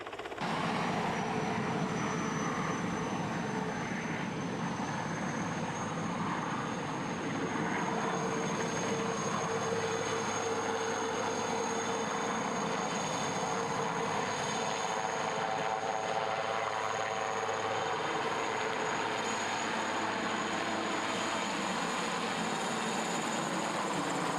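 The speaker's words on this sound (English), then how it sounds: "Then a helicopter took off on its way to Durban" Steady helicopter engine drone, continuous and moderately distant, with a broad rumbling hum that holds level throughout and no voices.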